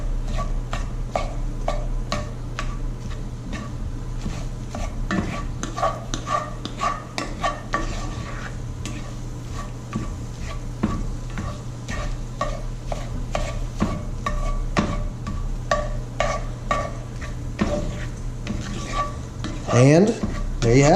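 Scrambled eggs stirred and chopped with a utensil in a frying pan, steady scraping and tapping strokes over a soft sizzle, close and continuous, with a few louder clanks near the end.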